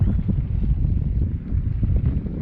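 Wind blows over the Brazos River, a steady low rushing gust buffeting close up with no voices.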